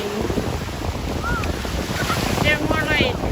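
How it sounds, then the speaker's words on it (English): Waves washing at a warm-water beach in Puerto Rico, a steady surf rush mixed with wind buffeting the microphone, with faint distant voices and a brief bird-like chirp in the background. "We are at the beach."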